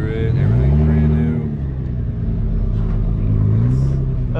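A 405 cubic inch small block Chevy V8 in a show car rumbles loudly and steadily up close, its pitch rising and falling as it revs, while people talk nearby.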